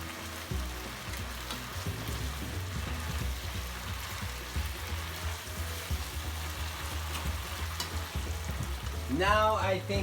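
Pasta fries and is stirred in a pan with soy sauce, giving a steady crackling sizzle with scraping stir noises throughout and a brief louder burst near the end; no one speaks.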